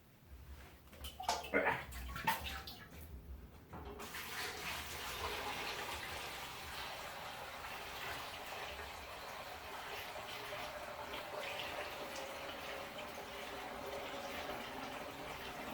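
A few clanks and knocks, then sugar wash pours steadily into a column still with a continuous gurgling splash, fairly quiet and close.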